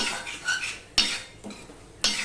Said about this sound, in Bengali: সম্পূর্ণ মিশিয়ে নিয়ে টমেটোর সাথে আমি আর একটুখানি কষিয়ে নিলাম